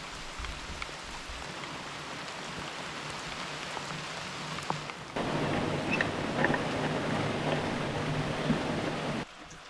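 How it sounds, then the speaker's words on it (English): Steady rain falls at a remote cabin on a wet day, a continuous broadband hiss that grows louder and denser about halfway through, then drops back near the end, with no voices. "It's a rainy day."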